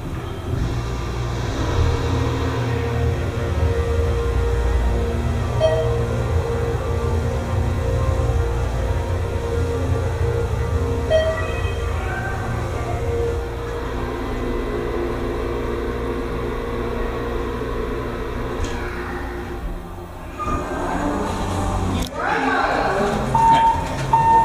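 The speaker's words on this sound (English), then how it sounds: "since this is my first time riding an Endura MRL, we'll take one more ride up to 3 and back down to 1" A ThyssenKrupp Endura MRL hydraulic elevator rides between floors, giving a steady low hum and rumble throughout, with faint tones and a brief shuffle near the end as the car settles.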